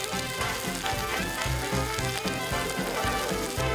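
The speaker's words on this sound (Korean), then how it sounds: "잘 달궈진 소뚜껑에 땅집게 기술로 지글지글 고기를 구워볼까요?" Meat sizzles on a heated cast-iron cauldron lid, a loud, continuous crackling fry with dense spitting and popping throughout.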